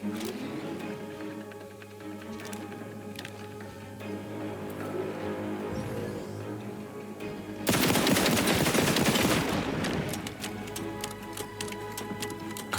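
Gunfire in The Outer Worlds 2 on hardest difficulty, a steady stream of rapid, tapping automatic shots that swells into a louder, denser burst of fire about halfway through, over a humming game backdrop.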